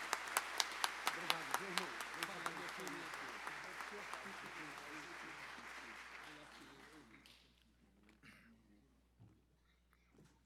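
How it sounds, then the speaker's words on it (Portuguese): An assembly at a solemn legislative session honoring religious leaders gives a pastor a round of applause, with sharp rhythmic claps standing out at first before the clapping fades and someone speaks briefly. "Salva de palmas para o nosso pastor."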